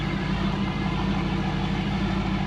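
A car's engine idles steadily after the driver shifts into neutral, a continuous low rumble that stays close and even throughout.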